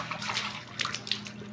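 Water splashes and trickles briefly while hands are scrubbed and rinsed, with soft irregular bursts of splashing close by and no talk.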